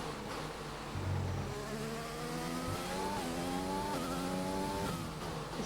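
Formula One cars in the F1 2020 game scream past one another during a race, their engines rising in several sharp upshift sweeps over a steady loud drone, with faint tyre squeal and no voices.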